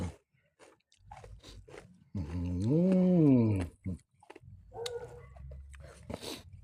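A dog outside the house gives a single drawn-out, rising and falling whine, fairly close, amid scattered crunching and clicking sounds before and after.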